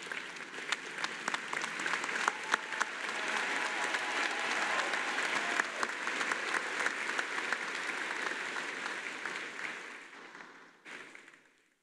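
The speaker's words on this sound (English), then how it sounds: "join me in applauding them for the good work they have done to bring you to this happy day." Graduating doctoral, specialist and master's students applaud their faculty at a fall commencement ceremony, a sustained wash of clapping from a large indoor crowd that fades out at the end.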